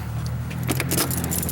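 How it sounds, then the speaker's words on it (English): A bunch of keys jangles briefly and close up as it is pushed into a pocket, with a light metallic clinking and no talk. "let me get these keys in my pocket real quick"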